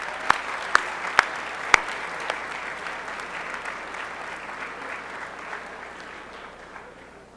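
A high school senior academic awards assembly audience applauds perfect attendance seniors, a few sharp claps up front giving way to steady, moderate clapping that gradually fades.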